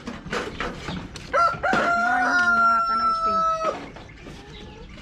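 Backyard chickens at their coop: a rooster crows loudly and close by, with hens clucking around it and a person talking nearby.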